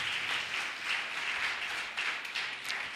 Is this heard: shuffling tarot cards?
no